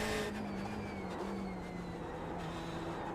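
A race car in the iRacing sim game braking into a corner, its engine note dropping steadily as it slows, with faint tire squeal, continuous and moderately loud with no talk.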